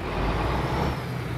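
In a trucking video game, a heavy-flywheel truck engine revs slowly with a dense, loud, steady rumble and roar, close and alone, without any talking.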